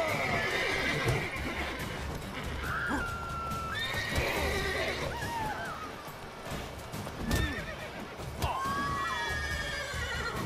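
Horses in The Witcher 3 whinny repeatedly with rising and falling neighs, while hooves clip-clop over a busy game soundscape of movement and scuffles. The horses sound close and fairly loud.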